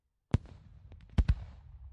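Fireworks bursting over a city at night in an audio roleplay scene: one sharp loud bang, then two more close booms after a short pause, with faint crackle and rumble trailing between them.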